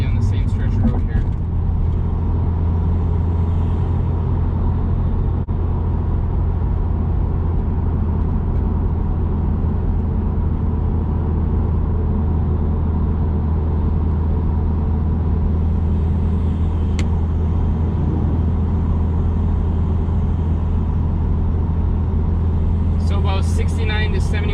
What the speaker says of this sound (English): So here's our test at 60 miles an hour.